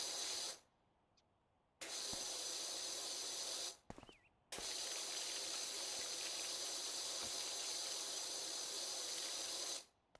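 A pressure washer sprays in the video game Power Wash Simulator, giving loud, close, steady hissing jets in long bursts separated by brief silent pauses, with no talking.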